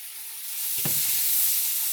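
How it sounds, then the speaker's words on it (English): Onions and cabbage frying in a pan on a stovetop, with a steady hiss of sizzling and one brief scrape of stirring near the middle, heard alone at close range. "Now we just caramelizing our onions."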